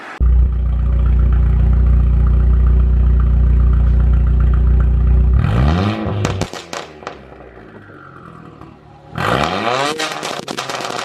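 A car with a new aftermarket exhaust holds a loud idle or steady rev, then revs up and drops off with sharp crackles and pops on the overrun, twice, close and loud.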